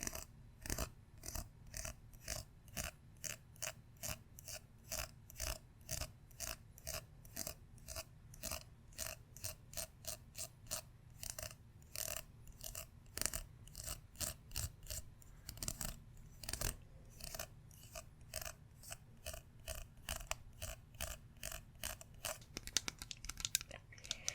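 Plastic N64 and GameCube era game controllers are handled up close, making a long run of quiet, rapid clicks, rattles and taps in an irregular but nearly continuous rhythm, with no talking.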